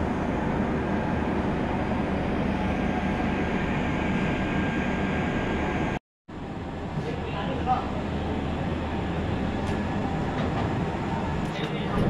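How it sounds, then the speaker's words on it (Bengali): An Indian passenger train pulls away from Keonjhar Road station toward Puri, heard from inside the coach as a steady loud rumble and hum. A brief dropout breaks the sound midway, then the rolling noise resumes. "যাজপুর কেওনঝাড় থেকে ট্রেন ছেড়ে দিল পুরীর উদ্দেশ্যে।"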